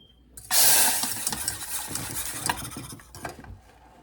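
A spoon stirs thick grain-free gravy in a pot on the stovetop, producing a close, bubbling sizzle with soft scraping and clinking against the pot that fades toward the end.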